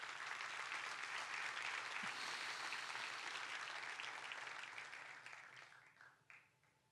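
A church congregation full of young people bursts into sustained applause, a thick wash of clapping that holds strong for several seconds and then gradually thins and fades away near the end.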